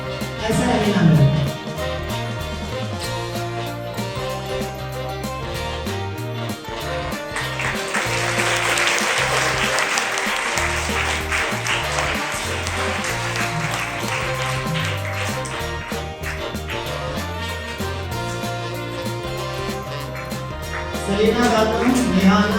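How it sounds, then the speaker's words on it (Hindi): An audience claps at a school ceremony in Raichur honouring SSLC toppers, a sustained wash of applause over a background of voices and scattered taps, swelling again near the end. "जोरदार तालियां"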